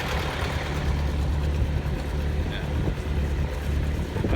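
A farm tractor engine runs steadily close by, a continuous low-pitched drone with a strong rumble that holds even throughout, with no speech over it.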